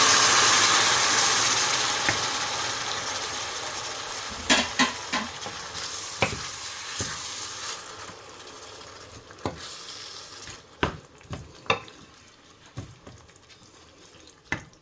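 Tomatoes and peppers fry in oil in a pan for onion-free menemen, with a steady sizzle that slowly fades and a few sharp scrapes and clinks of stirring scattered throughout.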